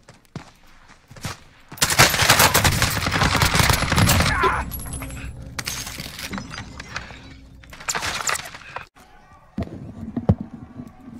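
Video game gunfire comes in bursts, a rapid volley of close automatic shots followed by scattered single shots and short pauses, with a player's voice talking in between.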